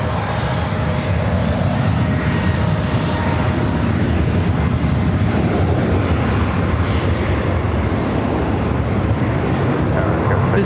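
A United Boeing 737 MAX 9 airliner takes off on a runway, its engine roar a steady, loud, broadband rush that holds throughout, with wind buffeting the microphone.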